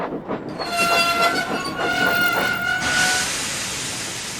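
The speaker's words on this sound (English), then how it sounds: "Thomas's brakes sound like this." Thomas the Tank Engine braking on arrival at Brendan Docks in a Roblox Thomas and Friends game, a loud sustained squealing tone over rumbling wheels that fades into a hiss near the end.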